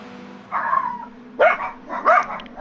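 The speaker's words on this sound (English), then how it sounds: "Bloody dogs." Dogs bark at a driving park, three separate yelping barks spaced about a second apart, close and loud over a low background hum.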